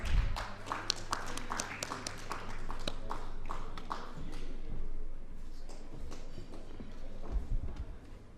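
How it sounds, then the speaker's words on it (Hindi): At the India News Manch 2025 forum session, an audience applauds with dense, crisp clapping that is strongest at the start, then thins into scattered claps over a low background hum. "एक बार जोरदार तालियां"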